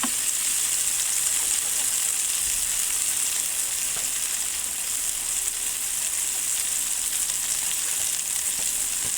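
A cheese-stuffed smash burger sizzles on a hot griddle, a loud, dense crackling hiss that runs steadily and close up from start to finish with no voices.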